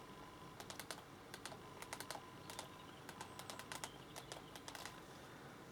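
Quick bursts of keystrokes on a computer keyboard, irregular clusters of light clicks with short pauses between, close but quiet over a soft room hiss.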